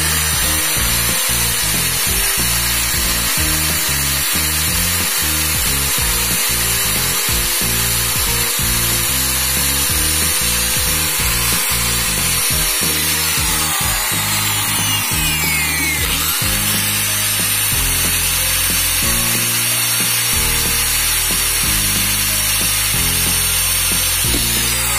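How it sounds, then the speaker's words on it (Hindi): An electric drill bores a hole through a switch plate, giving a loud, close, continuous whine that runs unbroken, with uneven grinding pulses as the bit bites and then a smoother, steadier pitch in the second half. "और अब जो है ये ड्रिल"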